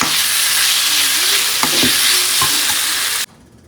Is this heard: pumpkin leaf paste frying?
yes